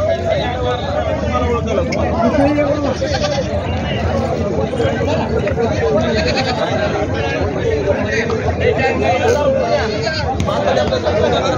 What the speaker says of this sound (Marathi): व्यापाराची खूप मोठ्या प्रमाणात शेळ्या आलेल्या आहेत